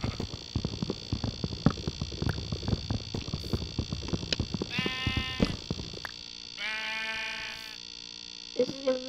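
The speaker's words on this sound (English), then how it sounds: "We got sheep right away. Sup, sheep." Sheep bleating in the Minecraft video game, two drawn-out bleats following a stretch of quick clicking taps, fairly clear against a quiet background.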